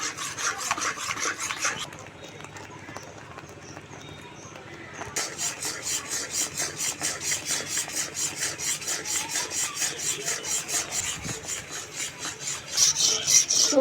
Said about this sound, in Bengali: অনবরত নাড়তে হবে, এইভাবে নেড়ে চেড়ে জাল দিয়ে শুকনো করে নিতে হবে।